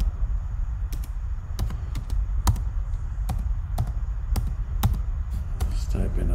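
Computer keyboard typing: scattered, uneven clicks and taps over a steady background hum, fairly close but not loud.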